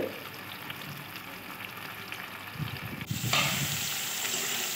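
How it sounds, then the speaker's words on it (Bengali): Bitter gourd pieces dropped into oil in a wok, starting as a moderate frying crackle that swells abruptly into a louder, fuller sizzle partway through. "কড়াইয়ের মধ্যে একটু তেল দিয়ে উচ্ছেগুলো আমি দিয়ে দিলাম"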